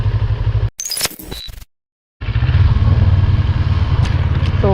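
A CFMoto NK400 motorcycle descending a rocky downhill slope, its engine a steady low rumble with rattling clatter, cut by a short break of silence before the close engine drone resumes.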